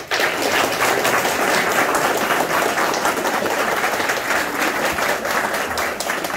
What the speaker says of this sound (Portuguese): queria pedir uma salva de palmas para o Teófilo.